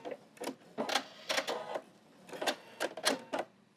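A sewing machine runs in short stop-start bursts while back stitching at the end of a seam on Christmas napkins, several quick rattling runs close by with brief pauses between them.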